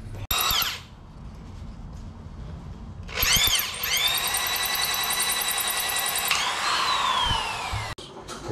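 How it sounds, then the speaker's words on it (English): A right-angle (90-degree) drill bores into metal while installing a rear-sump oil pan conversion kit, two bursts: a short whine spinning up, a pause, then a longer steady high-pitched drilling run that winds down and stops, close and loud. "Got ourselves a 90-degree drill here"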